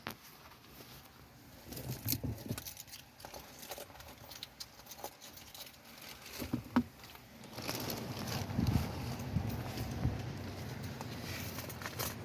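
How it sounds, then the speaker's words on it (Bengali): Rain patters steadily and grows heavier toward the end, with scattered drips and taps nearby; no voices are heard. "মানে এই মাত্র বৃষ্টিটা নামছে"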